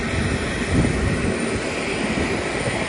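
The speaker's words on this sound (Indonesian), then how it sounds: "Ada pesawat Super Airjet yang baru landing." A Super Air Jet airliner that has just landed drones steadily as a loud, broad engine roar in the foreground, with no voices.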